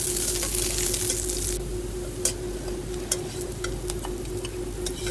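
Garlic and green chilies frying in a pan make a moderate sizzle with a steady low hum underneath, broken by several sharp clicks and taps from stirring; the bright hiss is strongest at first, then settles quieter.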